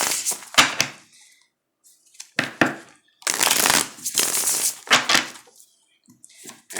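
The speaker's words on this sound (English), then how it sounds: "All right, one more shuffle." Tarot cards being shuffled close up in several quick bursts of riffling and snapping, separated by short silent pauses.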